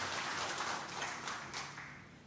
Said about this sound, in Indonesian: Tepuk tangan untuk IMIPAS.